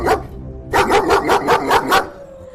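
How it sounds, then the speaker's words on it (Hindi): A dog barks in a quick run of about six loud, evenly spaced barks, preceded by a brief bark and followed by quiet, with no talking over it. "वो कुत्ता वहाँ से नहीं जाता है और भौंकता ही रहता है।"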